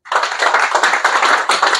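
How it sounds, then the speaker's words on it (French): Audience clapping at a Gabonese political press event after a speech by a Patriotic Front representative; a brief, fairly loud burst of dense hand claps runs steadily with slight surges, no voices over it. "On applaudit bien fort, mesdames et messieurs."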